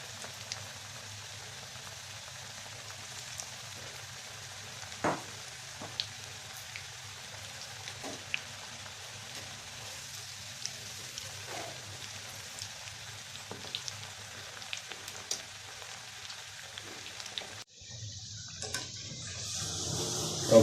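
Onion vadas deep frying in hot oil give a quiet, steady bubbling crackle with scattered faint pops, close by with no voices.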